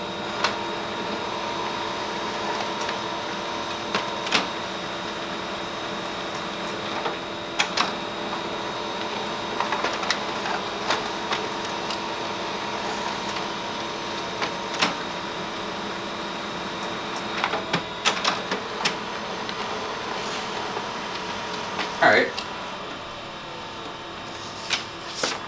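An HP Color LaserJet Pro M277dw laser printer processing and printing a two-sided job gives a steady mechanical whir and hum throughout. Frequent brief clicks and clacks sit on top, with no talk.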